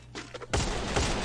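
Gunfire bursts in a competitive online shooter match erupt loudly and densely, a sharp opening shot followed by a sustained rattling volley with no voices over it.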